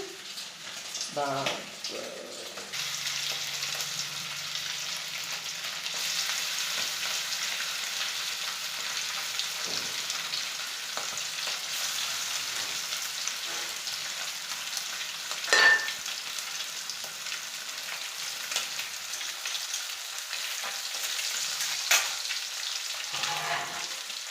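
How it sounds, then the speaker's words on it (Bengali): Fish frying in hot oil in a kadai on a gas stove turned low, with a soft, steady sizzle and light crackle, moderately quiet, punctuated by a few clinks and a short tone near the middle. "কড়ার তেলটা গরম হয়ে গেছে, এবার মাছটা তুলে দিচ্ছি।"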